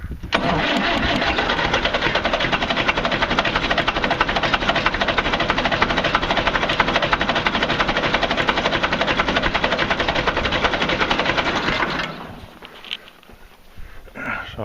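A diesel B275 tractor engine cranks and runs loudly and steadily through a hard cold start, with dense continuous clatter that drops away abruptly near the end, leaving quieter background sounds.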